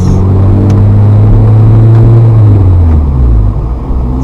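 A manual transmission car pulls away in first gear. The engine's loud, close drone swells as the clutch bites, then eases off near the end, with no talking.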